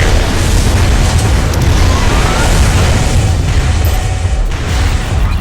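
Missile explosions in Armored Core 3: a continuous dense roar of blasts, loud and close, with heavy low rumble sustained throughout and no distinct gaps or talking.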